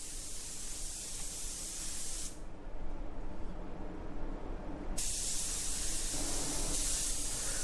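Spray gun laying a third coat of paint on a car, a steady close hiss that runs continuously and brightens sharply after a brief dip, loud and alone with no talking.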